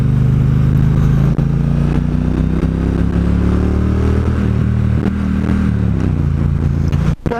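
A Triumph Bonneville Bobber motorcycle being ridden through its gears, a loud close engine drone rising in pitch and dropping at each gear change, constant over several seconds.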